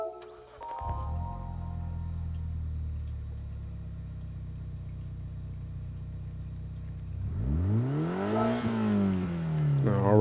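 A 1998 Mitsubishi Lancer Evolution V GSR engine in Gran Turismo 7 cranks and settles into a low steady idle, then revs up sharply with a rising whine near the end.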